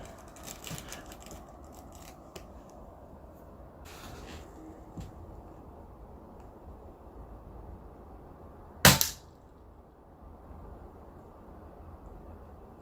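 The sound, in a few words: air rifle pellet shot fired at a spoon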